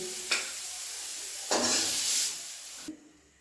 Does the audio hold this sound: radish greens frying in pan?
yes